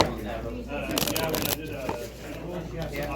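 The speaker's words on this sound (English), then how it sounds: "All right, so I guess we'll shuffle up, I guess." Cards for a custom dice trading card game being shuffled at a table, a brief riffling burst amid soft shuffling and quiet talk from players.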